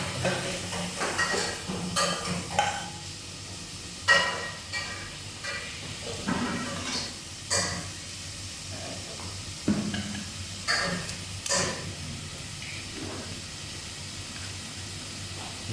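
A pot of chicken biryani is stirred by hand, with repeated scraping and clinking strokes against the pot under a soft steady sizzle, close and moderately loud, no talking.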